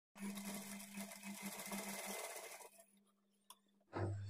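A sewing machine stitches piping cloth onto a blouse in a steady, continuous mechanical whir with a low hum. It stops after a few seconds, leaving quiet handling noises and a short tap before a final burst.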